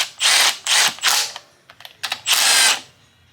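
Milwaukee M12 stubby power tool driving used TTY cylinder head bolts, heard in several loud bursts of whirring and ratcheting with short gaps between, ending in one long final run.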